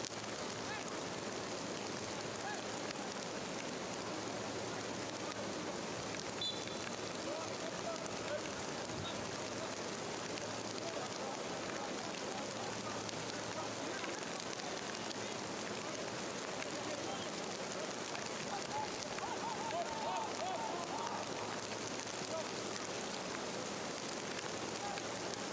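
Heavy thunderstorm rain falling over an outdoor soccer match in Arlington, a dense steady hiss of downpour running unbroken for the whole stretch at a low, even level.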